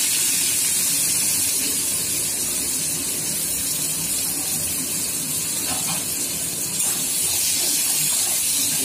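Chopped onion fries in hot oil in a pan for a Bengali vegetable dish, giving a loud, continuous, even hiss with a faint crackle that holds throughout.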